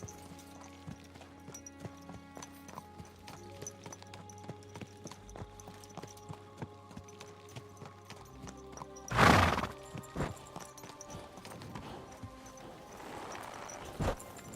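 A horse in the video game Kingdom Come: Deliverance 2, with soft hoof clip-clops and one loud whinny in the middle. Faint game music and a low background hum run throughout.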